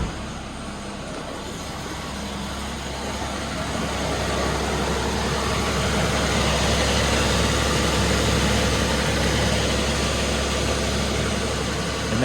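A 2009-2014 Nissan Maxima idles inside a building, a steady, even engine drone with a low hum that holds level and continuous throughout, with no voices over it.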